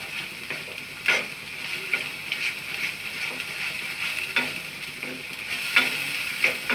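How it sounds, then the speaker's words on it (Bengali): Poppy seeds being stirred into a spice paste frying in oil, with repeated scraping strokes against the pan in an uneven rhythm over a steady bright sizzle, close up, with no voices. "আমি পোস্তটা দিয়ে মশলার মধ্যে নাড়ছি, এটাকেও ভালো করে আমি কষিয়ে নেব"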